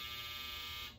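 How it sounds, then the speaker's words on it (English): A harsh, steady electronic buzzer drones loudly for about a second, then cuts off abruptly. "you heard the buzzer"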